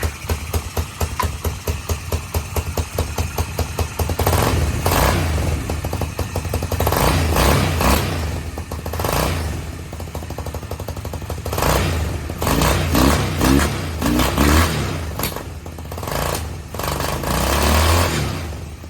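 A Chinese go-kart engine, freshly swapped in and with a carburetor needing cleaning or tuning, runs loud and close, starting with rapid putter and then rising and falling through rough revs and clattery idle, with no talking.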